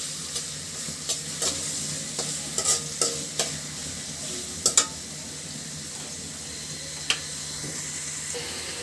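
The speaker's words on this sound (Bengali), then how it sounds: "তো এখানে আমি পেঁয়াজ মরিচ দিয়েছি, দিলাম তেল" Onion and chili fry in oil with a steady close sizzle, broken by scattered sharp clinks and scrapes of a spatula stirring the pan.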